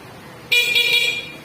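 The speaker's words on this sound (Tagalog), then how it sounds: "yung busina po natin" A car horn gives one short, loud honk of about two thirds of a second, close by and clear against a quiet background.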